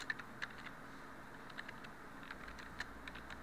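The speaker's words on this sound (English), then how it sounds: "we're going to type all in caps initials" Light clicking of a computer keyboard as a short note is typed, scattered quiet keystrokes in uneven rhythm, close and faint, no talk.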